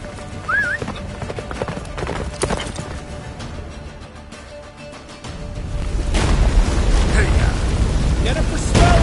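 Horse hooves gallop in The Witcher 3 battle at Kaer Morhen, a steady clip-clop over rumbling booms and battle noise that swells louder in the second half, with a voice speaking at times.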